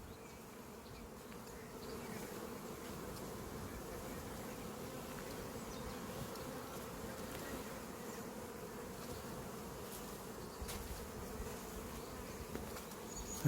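Honeybees swarm around a backyard beehive, their dense buzzing a steady close hum that continues throughout with no talking.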